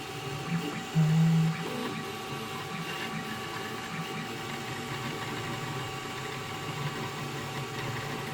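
A Zortrax M200 3D printer prints a small rotary engine rotor, giving off a steady mechanical whir and hum with faint stepper tones and fan noise, moderately quiet and continuous.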